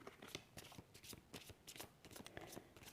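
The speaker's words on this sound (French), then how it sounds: "Je vais battre un petit peu les cartes pour voir ce qu'elles nous disent" Tarot cards being shuffled by hand, a soft, quiet run of riffling and flicking card slaps repeating in an even rhythm.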